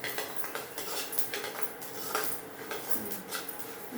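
Semolina (rava) dry-roasting in a pan, with grains popping as a dense, continuous crackle of small ticks and clinks, close and steady throughout.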